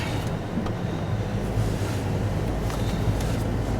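An old engine keeps running after being put in gear, giving a steady low rumble with some wind noise and no break in the sound.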